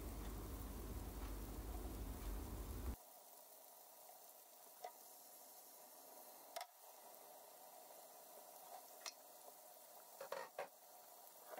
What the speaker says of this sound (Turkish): Misket köftelerini tavaya alalım.